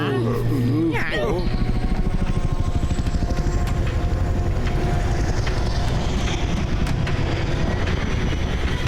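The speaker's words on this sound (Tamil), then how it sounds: "வகான் கோரில்லா டெவில்ஸ் ஆர்ட்டை தேட கிளம்பி போயிட்டு இருக்காரு. அதுவும் ஹெலிகாப்டர்ல." A helicopter flies in a cartoon adventure, its steady rotor thrum and engine drone filling the scene loudly and continuously from start to finish while voices talk over it.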